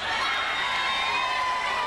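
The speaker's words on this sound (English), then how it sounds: "You're supposed to make each cheer louder for the next musician." A large outdoor festival crowd in Jubilee Park, Edmonton, London cheers and shouts loudly and steadily for a musician, a dense wash of voices throughout the brief moment.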